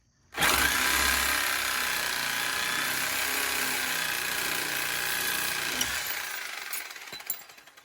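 A loud, continuous hammering roar of a power tool working a rusted bolt on a truck's sway bar end link, running steadily for several seconds close by, then winding down with a few clanks.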